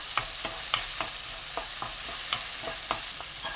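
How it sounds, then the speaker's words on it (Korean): Green onions sizzle in melted butter in a pan over medium-low heat, a steady loud frying hiss broken by repeated stirring scrapes roughly every half second. "파 넣고 센 불보다 조금 약한 불로 10초 볶아주세요."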